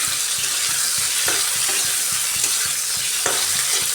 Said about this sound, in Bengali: এইভাবে গ্যাসের ভিতটা ফুল দিয়ে আলুটাকে একটু কড়া করে ভেজে নিচ্ছি